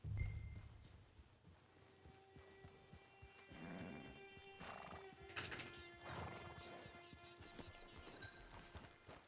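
Hooves clop steadily in a video game as a horse moves along near a camp, the rhythmic footfalls close and continuous throughout, with a faint neigh-like call among them and no talk.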